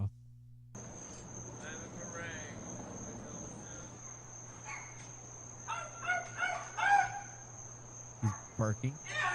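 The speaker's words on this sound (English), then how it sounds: "He's barking." A dog barks at a rural home in several short, sharp bursts that grow more frequent toward the end. Loud crickets chirp steadily underneath, and there is a faint murmur of background noise.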